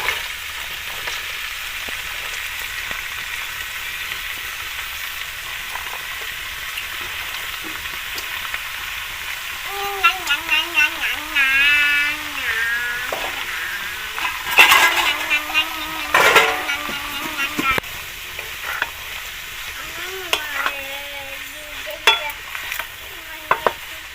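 Bottle gourd fries and is stirred in a pan for village-style lau shukto with thankuni leaves, a steady sizzle broken by scraping stirs and occasional clatter, with a faint voice in the background.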